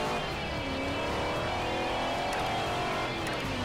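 A car engine in the Forza Horizon racing game revs steadily and loudly while drifting, the pitch rising and falling across several seconds with no talking.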